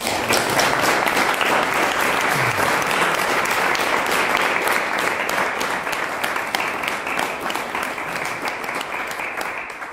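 An audience at a mathematics lecture gives sustained, dense applause for the conference organizers, steady clapping heard close and even throughout, tapering slightly toward the end.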